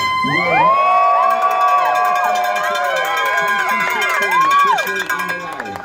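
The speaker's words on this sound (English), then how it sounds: "the cheer of the crowd pushed us into the cold water" A crowd at the start of a triathlon swim yells and whoops loudly and continuously, many excited voices overlapping in rising shouts near the water's edge, with cheers sustained throughout before easing slightly at the end.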